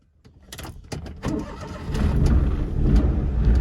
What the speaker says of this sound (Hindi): गाड़ी हो गई है जी स्टार्ट।